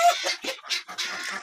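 Rooster and hens in a backyard flock of Wyandotte chickens at evening, giving a run of bright clucks and calls in several close bursts, with no talk over them.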